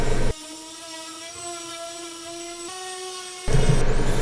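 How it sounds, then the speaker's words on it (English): A power sander on 2x4 wood gives a steady, high-pitched whine with a bright tonal hum for about three seconds, starting and stopping abruptly between louder bursts of noise. "Now I'm just doing a little bit of sanding on all of the surfaces and edges"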